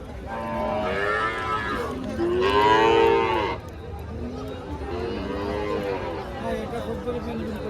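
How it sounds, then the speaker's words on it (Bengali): Cattle moo in long, loud, drawn-out calls at a huge open-air cattle market, several bellows overlapping nearby with a busy crowd murmuring and people talking underneath. "বিশাল হাট এই হাটে হচ্ছে লক্ষ লক্ষ গরু উঠছে খোলা গরুর হাট"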